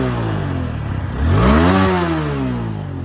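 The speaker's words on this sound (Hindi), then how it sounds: "अब देखते हैं भाई एग्जॉस्ट किसका बढ़िया है, ठीक है, साउंड।" TVS Apache 4V 160 motorcycle revved through its exhaust, a steady idle rising into a loud, sweeping rev around the middle before settling back to a rumbling idle, heard close with no talk.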